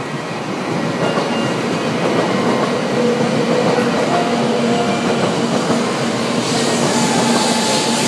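A train rolls into a platform on the Tokaido Main Line in the Chukyo area, a loud, steady rumble of wheels on rails with faint squeals and rising brake hiss near the end.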